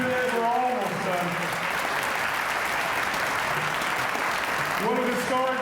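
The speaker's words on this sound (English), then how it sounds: "Let's give another round of applause to Dr. Bob, to the mayor, to all of you." Steady applause from an audience at a 2014 Martin Luther King Jr. ceremony in Aurora, a dense even patter of clapping sustained for several seconds, with a voice heard faintly at the start and end.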